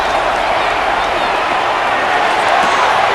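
Stadium crowd noise in the video game Madden NFL 26 during an NFL game between the New Orleans Saints and Tampa Bay Buccaneers, a loud, steady roar of massed voices that holds level throughout.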